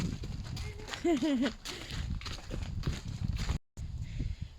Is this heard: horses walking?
yes